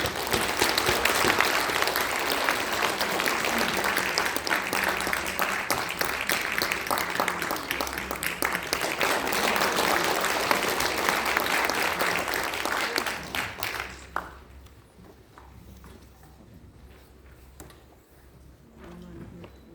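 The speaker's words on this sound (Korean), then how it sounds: "박수로 맞이하겠습니다." Applause at a Korean political party launch ceremony, a crowd clapping loudly and steadily for about fourteen seconds before it cuts off, leaving quiet room tone.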